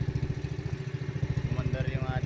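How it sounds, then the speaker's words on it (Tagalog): A small boat engine runs close by with a loud, rapid, steady thumping putter, and a voice briefly speaks over it near the end. "Umandar yung ating makina."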